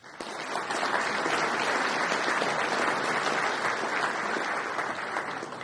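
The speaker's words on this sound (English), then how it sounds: "So please give them a round of applause." An audience at a rural water services awards ceremony breaks into loud, sustained applause that starts abruptly and holds an even, dense level throughout with no talk over it.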